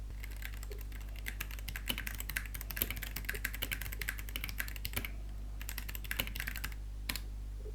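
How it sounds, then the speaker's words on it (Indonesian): Typing on a Rexus Daxa M71 Pro mechanical keyboard with Gateron Red linear switches: quick, steady keystrokes, close and fairly soft, over a low constant hum with no talking. "Rexus Daxa M71 Pro ini keyboard mechanical dengan switchnya itu Gatron yang red."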